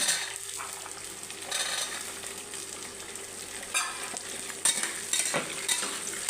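Soaked peas and onion frying in a pan for menthya bath, a steady close sizzle with occasional stirring scrapes and no talking.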